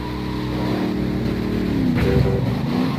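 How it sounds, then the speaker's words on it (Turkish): A car engine in Grand Theft Auto 3 drones steadily at close range, its pitch shifting partway through as the game vehicle drives along, with no voices over it. "Bu arabanın sesini uzaktan da tanıyorum."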